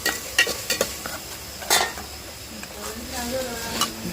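Gongura leaves frying in a pan for a gongura chicken curry, stirred with a utensil that scrapes and clinks against the pan in scattered sharp knocks over a steady soft sizzle.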